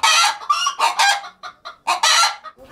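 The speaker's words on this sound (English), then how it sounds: "she keeps different types of ornamental birds and chickens from different parts of the world" Chickens and ornamental birds on a farm in Nyoinda village near Naivasha give a string of loud, close clucks and squawks in uneven bursts, with short gaps between calls.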